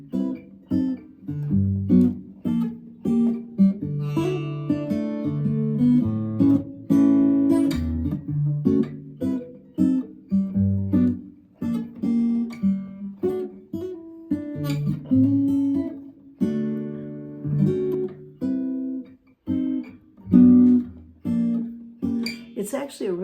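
Vintage Aria dreadnought acoustic guitar fingerpicked through a chord-changing exercise, with clear plucked notes and ringing chords in a steady, close, unaccompanied pattern.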